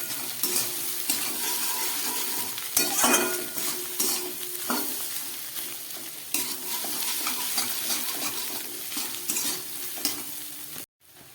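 Food sizzles steadily in a hot pan while a utensil stirs and scrapes, with a few sharper clatters against the pan, no voices.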